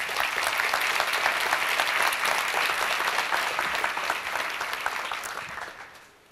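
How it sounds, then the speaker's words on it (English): Conference audience applauds a volunteer project team, a dense, sustained wash of clapping from a large hall crowd that gradually fades out at the end. "So let's applaud them."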